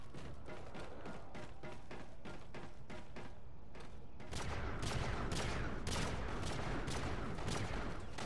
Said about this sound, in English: Shots fired this way.